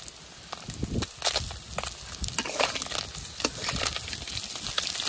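Small fish frying in oil in a pan, a loud close crackling sizzle with frequent sharp pops and bursts of stirring scrapes throughout, no talk.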